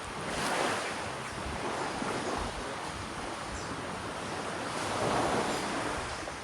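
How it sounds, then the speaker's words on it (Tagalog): Sea waves wash and break onto a beach in Gloria, Oriental Mindoro, in a steady roar, swelling at the start and again near the end, with wind buffeting the microphone. "enjoyan mo yung hampas ng dagat"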